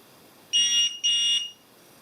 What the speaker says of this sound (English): That beep means it's finished its auto calibration.